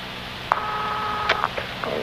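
A telephone is dialled in a radio drama, with a few short tones and beeps followed by the start of an engaged signal, close and clear over a steady hiss.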